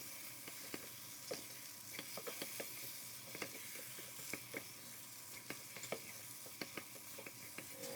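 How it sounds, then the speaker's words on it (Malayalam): Prawns being stirred into masala in a pan for a prawn dum biryani, with a steady soft sizzle and scattered scraping spatula ticks, quiet and close, no voices. "ചെമ്മീനും അതിൽ ആ പറ്റൊക്കെ ഒന്ന് ചേർത്ത് നന്നായിട്ടൊന്ന് മിക്സ് ചെയ്തെടുക്കാം"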